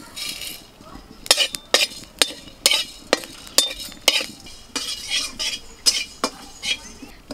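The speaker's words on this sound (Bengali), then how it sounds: "ধনে জিরেটা একটু শুকনো খোলা নেড়ে নেব" Coriander and cumin seeds dry-roasting in an open pan as a utensil stirs them, giving about a dozen sharp clinks and scrapes in irregular bursts. A soft background hiss sits between the strokes.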